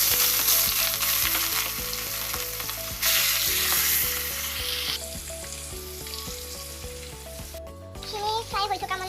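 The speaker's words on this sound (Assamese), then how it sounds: "এতিয়া মই প্ৰথমতে মাছখিনি ভাজি ল'ম।" Fish pieces fry in hot oil with a loud, continuous crackling sizzle up close, occasional stirring, and steady background music underneath.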